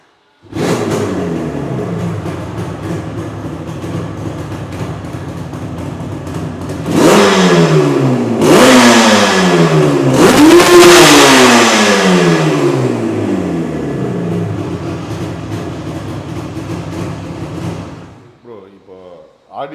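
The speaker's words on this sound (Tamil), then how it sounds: "RD 350 ஒரு 350 சிசியில் ரொம்ப ஹைப்பாக இருக்க பைக்கு. அதாவது மக்கள்கிட்ட சொல்கிறேன், பயங்கரமாக போகும்." A restored Yamaha RD350 350cc two-stroke motorcycle idles loudly up close, then its engine is revved hard in three sharp rising bursts before settling and cutting off near the end, with no talking.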